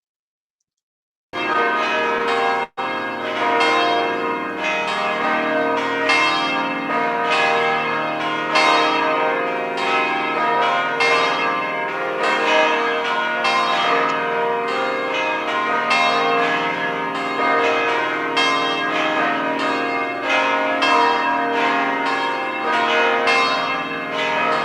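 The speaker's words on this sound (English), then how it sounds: "Let the bells ring" Church bells peal continuously in a dense, overlapping ring of many strikes, loud and sustained throughout after a brief start.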